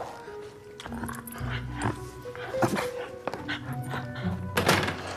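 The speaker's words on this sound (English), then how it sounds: "You've established you're a completely useless guard dog" A dog named Binky, a house guard dog, makes soft whimpers and short yips amid thumps and voices in a busy room, with people talking over it.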